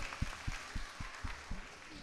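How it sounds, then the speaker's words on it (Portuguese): Applause for Renan at a comics-distribution panel: faint, steady clapping in an even rhythm, about four claps per second, with a low background murmur. "Palmas pro Renan, né?"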